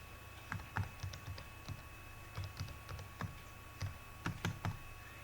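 Someone types on a computer keyboard in quiet bursts of soft, quick key clicks, irregular clusters separated by short pauses, close but faint with a faint electrical hum behind.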